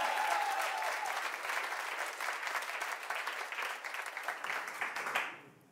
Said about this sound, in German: Klatschen!